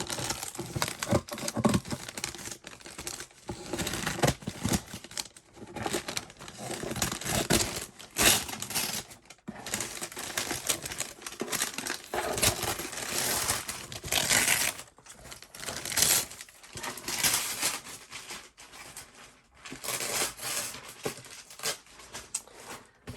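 Cutting through the tape on a cardboard shipping box, a long run of close, loud crinkling, scraping and rustling bursts with brief pauses, no talking.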